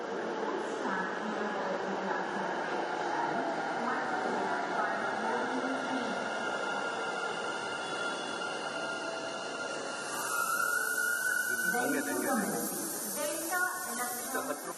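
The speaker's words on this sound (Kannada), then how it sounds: "ಕಡೆಗೆ ಹೊರಟಿರುವ ರೈಲು 2ನೇ ಪ್ಲಾಟ್ಫಾರ್ಮ್ ಅನ್ನು ಪ್ರವೇಶಿಸಲಿದೆ" A Bengaluru Namma Metro Yellow Line train rumbles and hisses into a station, with a platform announcement voice over it and a rising electric whine near the end.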